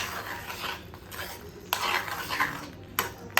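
Semolina sheera with ghee and hot milk being stirred in a pan, a spoon scraping and clinking against the metal in a few sharper strokes over a soft, steady background.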